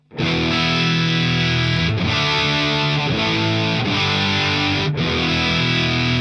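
Heavily distorted electric guitar through a high-gain preamp turned to about 7 or 8, playing sustained, saturated chords in several long phrases, loud and thick with no other sounds.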